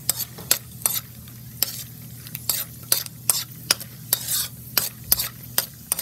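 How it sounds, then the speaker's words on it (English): Raw peanuts dry-roast in a pan while a spoon stirs them, giving repeated sharp scraping and rattling strokes in an irregular rhythm over a faint sizzle and low hum, close and clear. The peanuts are for sabudana khichdi. "So you're going to cook your raw peanuts until the color starts to change."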